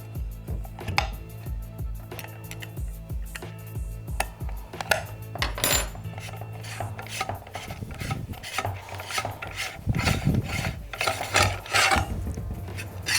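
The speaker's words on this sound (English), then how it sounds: "If you depress that spindle lock button, then use the wrench to unlock the arbor screw." A wrench loosens the arbor screw on a DeWalt K-9 saw, with repeated rasping scrapes, metallic clicks and ratchet-like ticks coming in uneven bursts, close and fairly quiet, with no talk.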